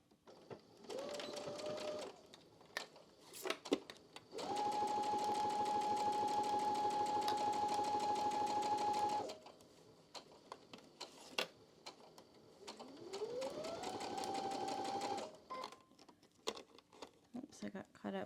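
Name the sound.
sewing machine back stitching quilt block seam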